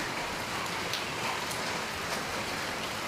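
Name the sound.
rain falling on the road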